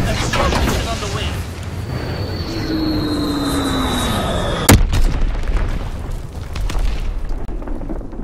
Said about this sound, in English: Sending mortar rounds, zone and sweep.